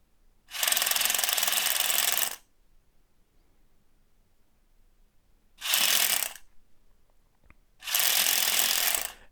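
Split-flap display modules with WiFi-controlled electronics flip together, giving three bursts of dense rattling clatter, each lasting one to two seconds, separated by quiet pauses.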